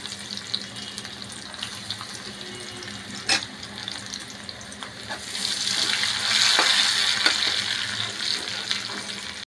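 Dried red chillies, chopped garlic and chopped onion dropped into hot oil in a kadai, producing a loud, close sizzle that swells partway through, with a few sharp knocks of a utensil.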